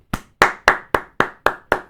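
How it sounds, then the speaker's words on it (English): Seven sharp, separate hand claps, close and loud, spaced unevenly at roughly quarter-second intervals, with no voices. "let's applause."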